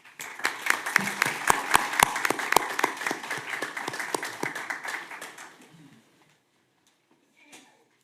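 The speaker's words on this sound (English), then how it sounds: "Let's give us a round of applause." A small crowd at a city commission meeting applauds with sharp, sparse claps for about five seconds, then fades into near silence.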